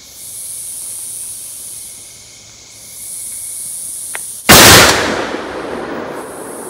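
A single sharp blast from a .416 Barrett rifle at an outdoor range cracks loudly partway through and decays into a lingering hiss, with steady background noise before it.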